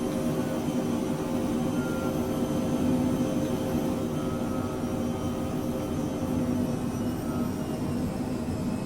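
Steady, even jet engine drone from a business jet flying touch-and-go circuits around California airports in Microsoft Flight Simulator 2020, a continuous roar and hum that stays level throughout, with no one talking.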